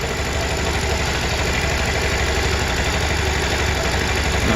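A motorcycle or scooter engine idles steadily and loudly close by, with an even, continuous rumble and no change in revs.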